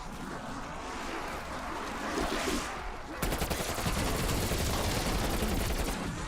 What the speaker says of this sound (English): I do not like burst rifles in zombies